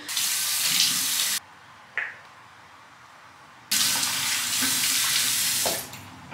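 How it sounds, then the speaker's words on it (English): A bathroom sink tap runs for face washing, a loud steady rush of water that stops abruptly, leaves a quiet gap with a brief splash, then gushes again and tapers off near the end. "I'm gonna wash my face after the night I had."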